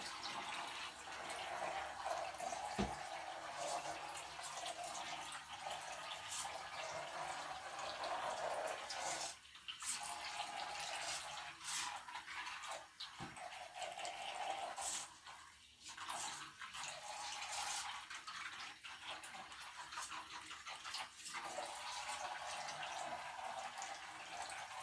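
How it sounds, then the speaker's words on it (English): A small 3D printed toy boat's propeller churns and splashes at the surface of bath water in a continuous, fairly quiet watery bubbling with brief dips, no talk. "I think the propeller is breaking the surface as it's going."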